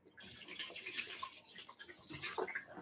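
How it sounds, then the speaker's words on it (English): Water is poured into a hydroponics garden container, a soft continuous splashing and gurgling stream, faint and close, with no talking. "I'm going to throw the water in here and mix more water."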